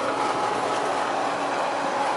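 A train passes at Myrtle Beach, a steady close rolling roar with a faint clattering texture, loud and unbroken from start to finish.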